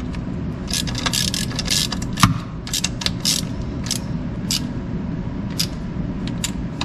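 Repeated ratcheting clicks of a torque wrench tightening bolts on a 1985 Chevrolet C10 squarebody truck, in bursts over a steady low background hum, close and fairly loud.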